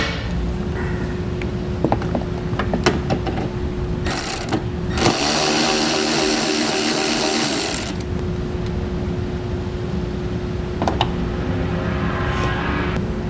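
A ratchet working a 7mm screw out of the fender well of a 2017 Chevrolet Spark, with short clicking bursts early, a louder harsh mechanical burst for a few seconds midway, then sparse clicks.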